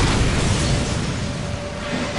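Deep rumbling explosion in a PS4 video game, a dense loud boom that fills the whole moment and slowly tails off.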